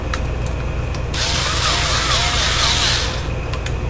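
A Ryobi 4-volt cordless drill whirs steadily for about two seconds, close and fairly loud, its motor whine rising and settling, with a few faint clicks before and after the run.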